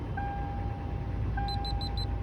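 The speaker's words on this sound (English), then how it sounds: "it'll beep, let you know if it started or not" A steady electronic tone sounds, then a quick run of four short high beeps near the end from a 5th-gen Toyota 4Runner remote starter confirming the start, all over a low background hum.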